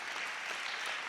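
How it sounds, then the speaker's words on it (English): A church congregation at a midweek service breaks into a brief, steady burst of applause, dense clapping filling the room without pause. "I think they deserve a round of applause"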